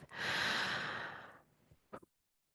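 A single long, audible breath like a sigh, loud at first and then fading, followed by a brief sharp intake near the end and then silence.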